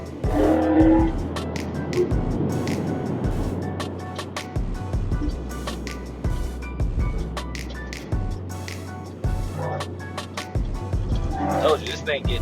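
Dodge Charger 392 Scat Pack pulling hard under acceleration, heard from inside the car with a loud, pulsing engine roar. A voice talks over it for most of the clip.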